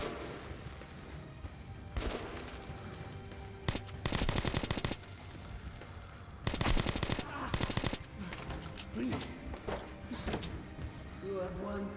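Automatic rifle gunfire from the video game Metro: Last Light, bursts of rapid shots at about 4 and 6.5–8 seconds with scattered single cracks, over continuous game ambience and someone talking throughout.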